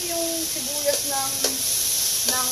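Oil spattering in a pan while sautéing for pork sinigang, with a steady sizzle broken by a few sharp pops and crackles. Faint tonal background sounds run underneath, but no one speaks.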